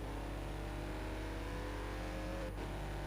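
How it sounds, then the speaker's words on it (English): A Mazda race car in the Forza racing game at Road America carries a steady, low, droning engine note under a dense, constant roar, with no voices. "A very interesting sound from the Mazda. It's got a very low engine noise."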